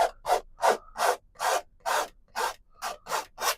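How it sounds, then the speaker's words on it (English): Palette knife pressed hard to scrape paint across canvas in a landscape painting lesson, nine or ten separate rasping strokes in a steady rhythm, close and fairly loud, with no talk. "you use the whole palette knife, use pressure to scrape out that paint."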